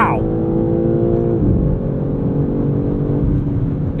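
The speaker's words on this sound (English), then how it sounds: "Gosh, this engine pulls so hard." A 2023 BMW M3 Competition xDrive engine pulls hard under acceleration from inside the cabin, a loud, steady droning growl with a brief upshift dip partway through.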